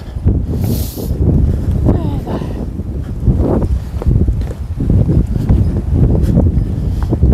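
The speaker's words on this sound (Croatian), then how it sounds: "Mislim da će nas otpuhati vjetar" Strong wind buffets the microphone outdoors on a walk at Trsat, loud rumbling gusts throughout, with people talking underneath.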